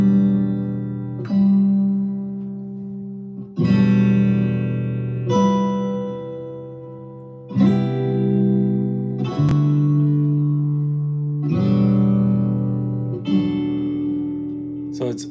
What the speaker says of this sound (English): I created a chord progression which sounds like this.